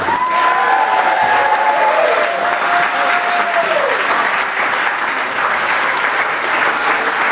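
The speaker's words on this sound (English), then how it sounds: "Now let's give all the people who performed an applause." Audience applause for student performers at the close of a school talent show at Stanbridge Academy, loud and sustained with a dense crowd wash; a faint tonal whistle or feedback glides through the first few seconds.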